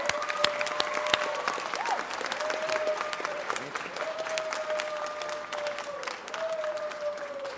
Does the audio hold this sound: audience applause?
yes